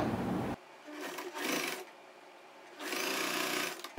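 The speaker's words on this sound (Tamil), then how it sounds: "இதை வந்து தொடங்கும் போது ஒரு லாக் ஸ்டிச் போட்டு நம்ம தொடங்கிக்கலாம்." A sewing machine runs lock stitches on a churidar neck in two short bursts of rapid mechanical chatter, close and clear, with quiet pauses between them.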